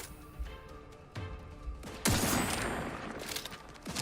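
Gunfire in the video game Outer Worlds 2: a few scattered shots and thumps, then a loud, sustained burst of rapid fire and crashing that holds to the end, close and forceful.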